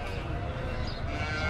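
Sheep bleat among the steady crowd noise of a large sacrificial livestock market in Mecca ahead of the Eid al-Adha slaughter, the animals calling close by over a constant, dense background din.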